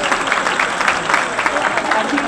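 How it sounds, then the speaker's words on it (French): An audience at a speech honouring a women's organisation president breaks into applause, a dense, continuous wash of clapping mixed with crowd voices. "sous vos applaudissements, mesdames et messieurs."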